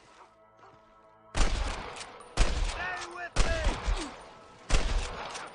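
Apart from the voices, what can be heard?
gunshots in the video game Red Dead Redemption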